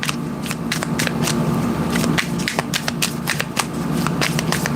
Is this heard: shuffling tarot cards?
yes